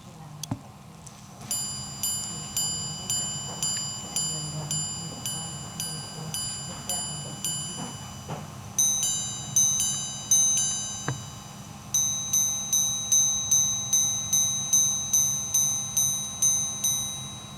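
A Bulgari Octo Finissimo minute repeater watch chimes close up, its hammers striking gongs in a long series of clear, bright, evenly spaced metallic tones, each ringing and decaying before the next, with short pauses between groups.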